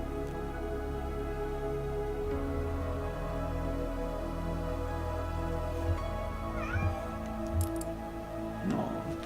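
A pet cat meowing indoors, a few short, faint calls late in the clip over a steady background hum, with no talking over them.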